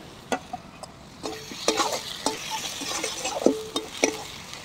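Garlic paste and ginger paste frying in a pan for a mushroom kasa curry, with a low sizzle beneath sharp, irregular clicks and scrapes of a spoon stirring against the pan, no voices.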